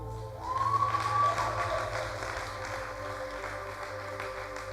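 A church congregation applauds at a moderate distance, a steady soft patter of clapping over a sustained hum, swelling briefly near the start then holding level.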